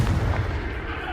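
A Confringo fire spell blasts off in the Hogwarts Legacy video game: a brief, loud, boomy burst that trails into a dense rumbling decay, with no other sounds around it.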